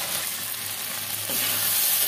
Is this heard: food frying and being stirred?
yes